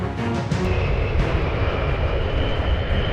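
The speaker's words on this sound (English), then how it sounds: "the P-51s flew alongside the flying fortresses, their engines humming steadily" Steady, loud drone of P-51 fighter plane engines cruising at high altitude alongside B-17 bombers in a WWII air formation, continuous and unbroken with no voices.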